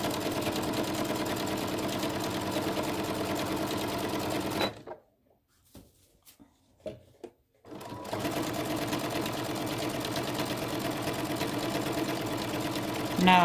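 A sewing machine stitches a quilt rod pocket at an unhurried, steady pace, running close and continuous, stopping for a few seconds with light handling clicks, then starting again.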